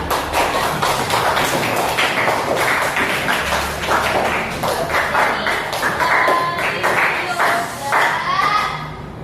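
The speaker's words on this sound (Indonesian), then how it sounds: "Beri tepuk tangan dulu." A classroom audience claps hands together, a dense burst of many quick, close claps that continues steadily for several seconds before thinning out.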